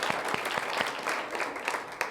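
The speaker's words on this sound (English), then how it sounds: "How about a round of applause for being flexible?" A short burst of audience applause, a dense even rush of many hands clapping at moderate volume, with no voices over it.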